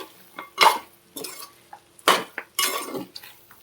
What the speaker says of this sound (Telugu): ఇప్పుడు ఉప్పు కారం వేసుకున్నాం కదా, మంచిగా కలుపుకోవాలి